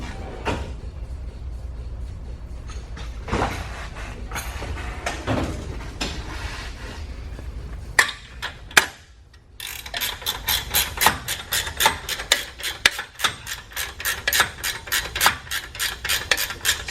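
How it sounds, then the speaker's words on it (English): Wrench working a bolt on a Yakima HangOver 4 vertical bike rack mounted on a hitch: scraping, rasping metal strokes, irregular at first, then a rapid run of repeated ratchet-like clicks after a brief pause, close and fairly loud. "also use a wrench to fully secure the bolt onto the hitch"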